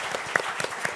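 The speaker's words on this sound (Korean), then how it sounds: "자, 우리 이진우 교육부 과장님 큰 박수로 맞이해주시면 말씀 듣도록 하겠습니다." A burst of audience applause at a panel discussion, many hands clapping together in a dense, steady patter at moderate distance.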